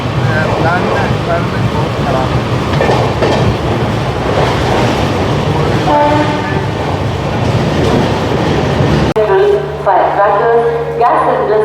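Inside a coach of the Purulia–Howrah Rupasi Bangla Express, a loud, continuous rumble and rhythmic rail clatter fill the whole stretch, with a brief shift in tone near the end and faint indistinct voices.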